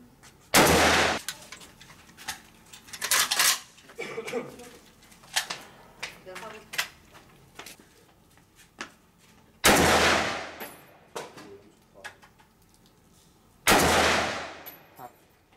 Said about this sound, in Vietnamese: Các bạn, mình đã bắn xong